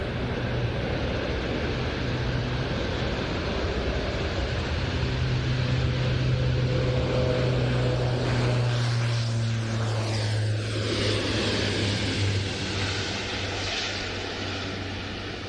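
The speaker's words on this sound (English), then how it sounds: "And here it is, on the roll. German Air Force A400M." A German Air Force Airbus A400M turboprop transport rolls for takeoff at an air show. Its loud, continuous propeller-engine roar stays close throughout, with a shifting drone as it passes, and no talking.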